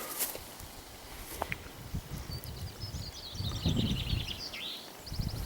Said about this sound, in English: Listen to the chaffinch.